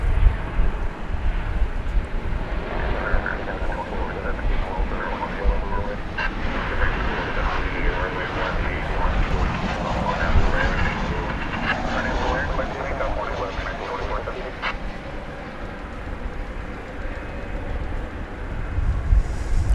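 Boeing 747-400 jet at DFW Airport at night, a continuous broad engine roar with wind buffeting on the microphone, steady and fairly distant, with a person talking over it.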